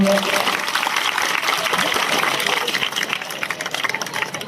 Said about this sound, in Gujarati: આ કૃતિના માર્ગદર્શક શ્રી સુનિલભાઈ માટે જોરદાર તાળીઓ